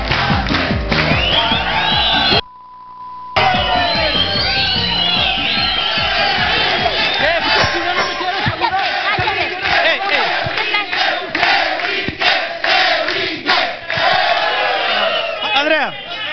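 Studio audience on a Spanish-language talk show cheers, whoops and applauds for Andrea, a loud sustained roar of shouting and clapping with a short break near the start.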